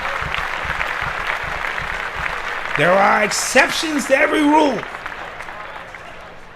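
A burst of applause on a podcast, a brief clatter of clapping rising under a voice and then fading out.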